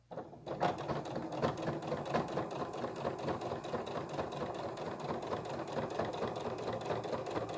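A sewing machine stitches fabric slowly, its motor whirring steadily with a soft repeating needle rhythm after a brief quiet start, close and alone without talk.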